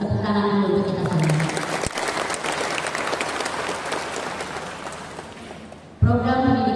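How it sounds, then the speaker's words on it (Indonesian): Applause from an audience of prospective teachers at an orientation workshop in Indramayu, a dense sustained clapping that swells between voices and slowly fades, with speech heard briefly before it starts and again as it ends. "Tepuk tangan dulu untuk kita semua."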